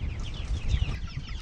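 Chickens cluck in chicken tractors on a farm, a cluster of soft overlapping clucks and chatter close by, with low rustling underneath.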